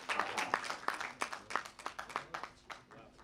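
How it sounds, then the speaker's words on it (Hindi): Distinct, rhythmic claps from a small audience after a poetry reading at a multilingual Sanskrit festival poetry gathering, faint and fairly distant, slowly thinning out. "एक बार फिर से जोरदार तालियां।"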